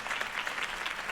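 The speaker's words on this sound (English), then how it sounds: "If only Mr. Wayne, my campaign's largest backer, could have heard that applause" Crowd applause in the Batman: The Telltale Series video game, a steady wash of many hands clapping at a political rally, sustained and fairly loud throughout with no voices.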